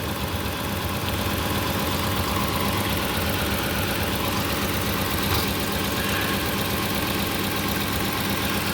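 A Ford Expedition engine idling in place, with corroded parts and a slight shake, producing a steady, even mechanical hum and fine ticking throughout, close and constant, with no talk.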